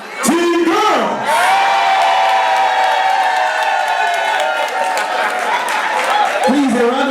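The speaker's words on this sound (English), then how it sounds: "Please, a round of applause as they make their way to their seats." A live audience cheers, whoops and applauds the winning team at the close of a competition round. Loud, sustained crowd noise with rising shouts fills the whole span.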